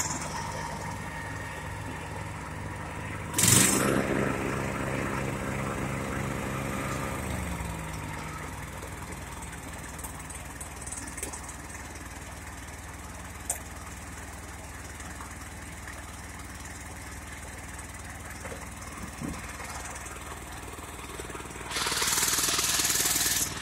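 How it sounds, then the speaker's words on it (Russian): A running MMC MSR900NHF snow blower engine gives a steady, rough mechanical drone throughout, with a loud clunk near the start and a brief rise in noise near the end. "Собственно, такой снегоуборщик."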